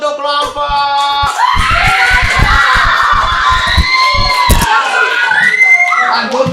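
Students in a classroom clap for a group, a burst of applause mixed with loud children's shouting and cheering voices that fills the whole moment.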